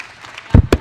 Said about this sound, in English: Let's give another round of applause to our amazing, newly minted astronauts